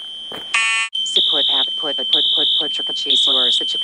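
A smoke-detector-style fire alarm at a Chuck E. Cheese's blares in repeated loud, piercing beeps while someone talks over it.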